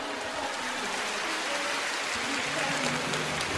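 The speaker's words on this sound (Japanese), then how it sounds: "なるほどインド、拍手。" An audience applauds at a fan event stage show in Yokohama, a dense, steady wash of many hands clapping continuously throughout, fairly soft and even, with no voices standing out.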